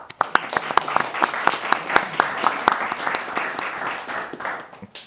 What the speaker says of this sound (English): Let's hear it for the senator, everyone.